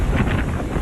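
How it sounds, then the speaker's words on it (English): Hurricane Dorian's strong gusts buffet the microphone in the Bahamas, a loud, rough roar of wind that swells and pulses through a brief burst. "Wind gusts of 200 miles per hour"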